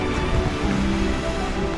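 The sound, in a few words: rain falling outdoors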